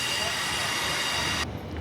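A coupled Ellenbrook Line train passes East Perth Station, a loud, steady rush of wheels and rail noise with faint squeal, holding close and constant before cutting off abruptly near the end.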